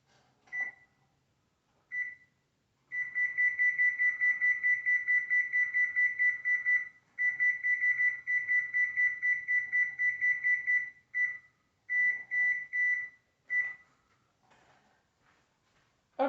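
An oven being set to preheat beeps at close range, first in single chirps, then in long runs of rapid, evenly spaced high beeps broken by short gaps, with no voices.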